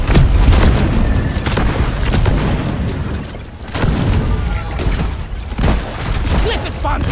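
Loud, dense booming blasts from a sticky grenade going off in the Deep Rock Galactic video game, with rolling explosions and gunfire-like crackle filling the clip while a voice speaks over the noise.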